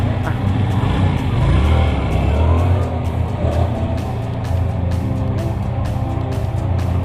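A 2021 Yamaha MT-07 motorcycle ridden along a road gives a steady, loud engine drone mixed with rushing wind noise that holds for the whole stretch, with no clear talking over it.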